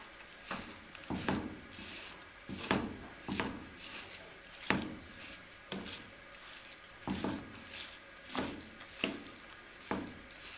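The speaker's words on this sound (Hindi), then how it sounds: "अब चमचे की मदद से इसको अच्छे तरीके से मिक्स कर लें।" A spoon stirring egg and semolina halwa in a pan, giving repeated scraping strokes roughly once a second over a faint sizzle.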